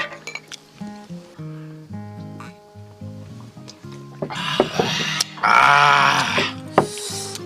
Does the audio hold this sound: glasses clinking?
yes